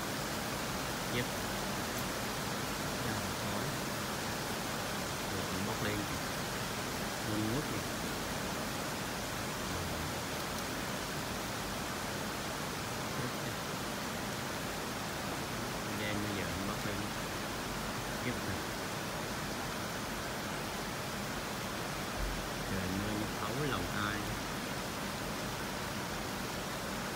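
Heavy rain pours over Saigon during a large house fire, a dense, steady hiss filling the whole stretch at constant loudness, with faint voices occasionally under it.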